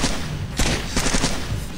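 Dense enemy gunfire from the Splinter Cell video game, rapid overlapping shots forming a loud, continuous burst of automatic fire close by, with no talking.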